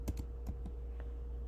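Several quick keystrokes on a computer keyboard in a fast burst, followed by one lighter tap, close and fairly quiet over a low steady background hum, with no talking.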